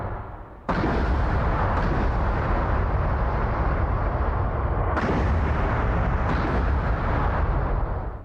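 Volleys of AIM-174B missiles launching from US Super Hornets against a Chinese carrier group in the DCS combat flight simulator, a loud, sustained roaring rush of rocket motors that starts abruptly and surges again partway through.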